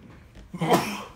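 A single short, sharp sneeze erupts close to the microphone after a brief intake of breath.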